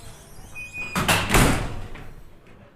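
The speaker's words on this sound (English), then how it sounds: "Open the door and you enter a dark and intimate space" The door of a small, dark bar in Helsinki opens with a brief squeak, then a thudding bump and rattle, fairly close, against quiet room noise and no talk.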